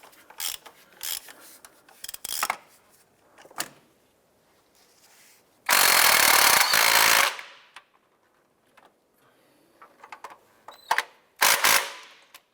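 A wrench tightens nuts on the transmission mount of a 2001-2005 Honda Civic, making short bursts of ratcheting clicks and metallic rubbing, with one louder, longer rasp near the middle and quiet gaps between.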